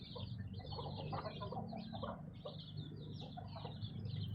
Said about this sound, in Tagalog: Ito po yung ating kulungan ng mga sisiw.